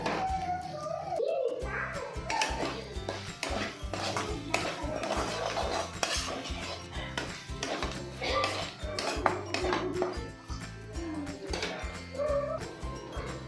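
A spoon stirs turmeric and Kashmiri red chilli powder in a pan for a potato and capsicum fry, with steady scraping and clinking against the metal that runs throughout, close and fairly busy.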